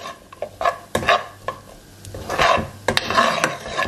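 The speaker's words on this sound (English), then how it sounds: "Let's give that a stir." Chopped chillies being stirred into an oil-free vegan Jamaican curry in a single pot, with repeated close scraping and rubbing strokes of a utensil against the pot and a soft sizzle underneath, alone without talk.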